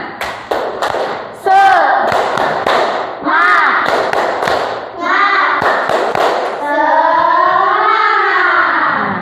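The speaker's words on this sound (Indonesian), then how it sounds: "mari kita tepuk semangat" A class of children performs the rhythmic 'tepuk semangat' clapping routine, sharp claps in quick patterned bursts alternating with loud chanted voices, close and energetic in a classroom.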